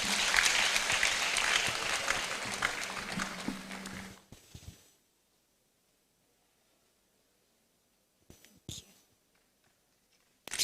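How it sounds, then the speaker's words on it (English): Applause from the audience at a Supreme Court 150th anniversary ceremony in Ghana, a broad burst of clapping that fades out after about four seconds, leaving near silence with a few faint knocks. "Please, a big round of applause."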